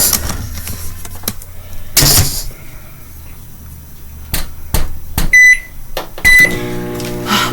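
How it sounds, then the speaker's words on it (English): Microwave oven running while heating a slice of sharp cheddar cheese, a steady low hum under clattering and rustling, with several sharp beeps near the end. "Put it in the microwave for a moment"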